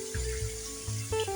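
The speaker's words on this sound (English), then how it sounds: "we're gonna wash it" Tap water running over raw organic chicken breasts in a kitchen sink, a steady soft stream with faint splashing and small shifts as the meat is handled.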